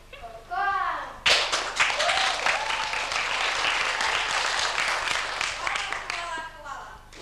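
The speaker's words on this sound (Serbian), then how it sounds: "To je slavni i kako pozdravimo aplauzom, Veljko Korkoan." An audience claps at a staged exam performance, a burst of applause that starts abruptly after a short announcement and carries on steadily, with a voice speaking over it near the end.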